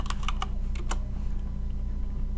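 Rapid clicking of keys on a computer keyboard as code is entered in the Unity editor, a fast burst of several close keystrokes early on, then quieter taps over a steady low hum.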